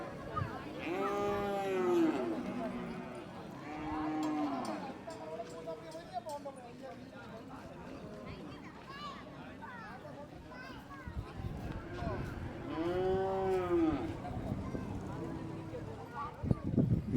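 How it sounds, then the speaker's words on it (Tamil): Large cattle moo loudly several times at a Patti Pongal festival in Jaffna, with long drawn-out calls spaced across the scene, over a steady crowd murmur, children's voices and people talking. "மிக பிரம்மாண்டமாக ஒரு பெரிய மாடுண்டு"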